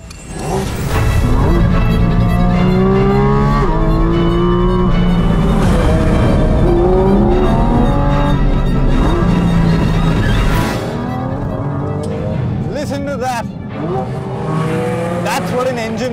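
A Porsche Cayman GT4 RS flat-six revs hard toward 9,000 RPM, its loud, rising wail climbing through the gears for about ten seconds before the engine drops to a lower, rougher drone with a brief tire chirp.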